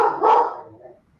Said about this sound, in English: The dog that's barking right now